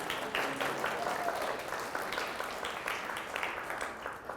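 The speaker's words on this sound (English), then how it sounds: "she was going for the wild applause" An audience at a municipal finance officers' conference claps steadily for several seconds, a broad wash of applause heard from within the room with no voices over it.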